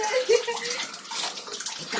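Water is poured or filled for a bath in a steady splashing gush that runs through the whole clip, close and fairly loud.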